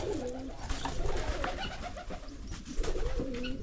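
Pigeons or doves coo and call close by beside a fishpond, with a steady outdoor background murmur and no talking.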